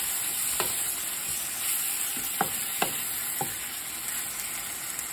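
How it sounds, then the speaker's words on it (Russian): Beef or pork liver fries in a pan with a steady sizzle, while a spatula stirs and scrapes it in a few sharp taps against the metal, close and alone with no voices. "Надо постоянно помешивать."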